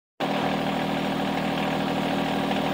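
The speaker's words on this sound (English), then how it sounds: "With the tractor running" A John Deere 2025R compact tractor with a mechanical auto throttle starts up suddenly and then idles steadily at about 1500 to 1600 RPM. The engine rumbles loudly and evenly, close by and alone.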